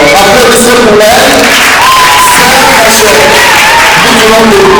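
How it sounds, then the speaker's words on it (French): A theatre audience in Congo claps loudly for a performer, dense applause and crowd noise filling the room while voices carry over it throughout. "Applaudissez pour elle"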